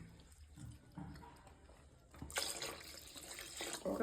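A tumbler of water poured into a pot of washed basmati rice and cooked chicken for a one-kilo biryani, a broad splashing rush rising suddenly midway and running for a couple of seconds, close and fairly loud after quieter kitchen rustling.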